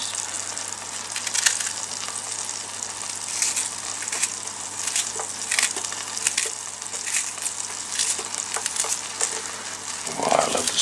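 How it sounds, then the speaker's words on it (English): Onions fry in a pan with a steady, close sizzle, broken by crackles and a few stirring scrapes, and no one speaks. "Oh, I love the smell of cooking onions."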